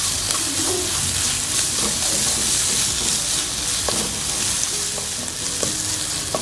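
Onion masala with garam masala frying for a beef roast, a dense steady sizzle close by with occasional spoon scrapes and taps as it is stirred; nobody speaks.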